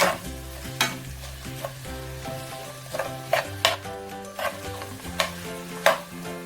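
Onions frying in a pan with salt for a hilsa fish and gourd curry, stirred now and then, with a steady sizzle broken by sharp utensil scrapes and clicks. Soft background music runs underneath.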